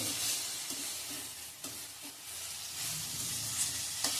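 Shravan ghevda beans sautéing with a squeeze of lemon juice in a hot pan, a continuous bright sizzle and hiss punctuated by occasional spoon scrapes and stirring knocks.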